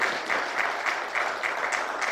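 A crowd at a surprise birthday celebration for an apostle applauds his wife, sustained close clapping that pulses in a steady rhythm throughout.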